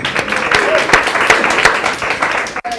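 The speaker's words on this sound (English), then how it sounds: "Have a round of applause" An audience claps for a volunteer coming down to the front, a steady spatter of hands with a few sharp individual claps standing out. A brief voice cuts in near the end.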